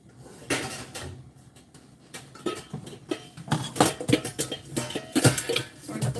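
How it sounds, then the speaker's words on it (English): Spinach mixture being scraped and tipped into a steel bowl, a run of irregular metallic clinks, knocks and scrapes that grow busier and louder toward the end, close in a home kitchen, no talking. "Sorry about the noise, trying to get it in a steel bowl."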